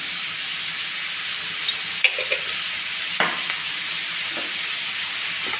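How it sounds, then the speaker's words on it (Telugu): Onions frying with turmeric in a pan for a prawn, drumstick and egg curry give a steady hiss of sizzling oil, broken by a few faint clinks and scrapes of stirring, close by and without talk. "ఉల్లిపాయలు బాగా బ్రౌన్ కలర్ వచ్చే వరకు వేసుకోవాలండి"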